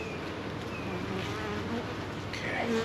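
Honey bees buzzing around an opened beehive during a hive split, a dense close hum with individual bees droning past, briefly louder near the end.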